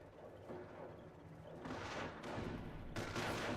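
Anti-tank guns firing in a Company of Heroes battle, a rolling fusillade of booming shots layered over ongoing gunfire, with sharper, louder bursts arriving in the latter half.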